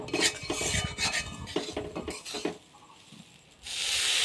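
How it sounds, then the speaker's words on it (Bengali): Metal spoon scraping and stirring a dough mixture in a frying pan, water added a little at a time, rapid clinks and scrapes over a soft sizzle, pausing briefly before a hissing burst as water hits the hot pan. "অল্প অল্প জল দিয়ে দিয়ে এটাকে ভেজে নিতে"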